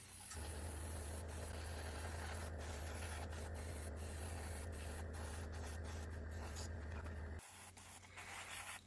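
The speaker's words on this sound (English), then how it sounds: "I briefly pre-shade them in dark colors as they aren't exposed to sun fading, and then spray them in haze grey." An airbrush sprays haze grey paint onto a 1/48 scale Meng F-4G Phantom II Wild Weasel model, a steady close hiss with a low compressor hum underneath that drops out near the end.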